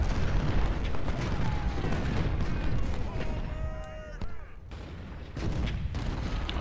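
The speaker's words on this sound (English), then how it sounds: "fire on Farnsworth for a little bit along with all my artillery" Cannon volleys thunder in the Ultimate General: Civil War battle game, with repeated booming artillery shots and whistling shell sounds layered over a continuous rumbling din of battle.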